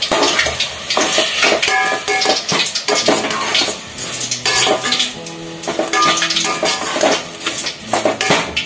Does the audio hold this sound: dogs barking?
no